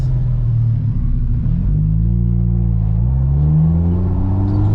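Honda VTEC-engined car accelerating hard, a loud, close low engine rumble with rising harmonic pitch sweeps as it revs through gears, steady and continuous.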